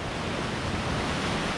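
Open sea breaks against a rocky shore below a high coastal walkway, a continuous, loud wash of surf and rushing water with no pauses or voices.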